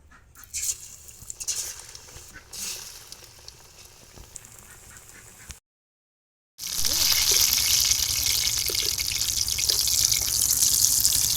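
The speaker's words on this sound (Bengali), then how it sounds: "বাকি সিমির চপগুলো আমি একইভাবে ভেজে নেব।" Bean chops fry in oil: a soft crackle at first, then after a brief silent gap a louder, dense sizzle with frequent bubbling pops carries on steadily.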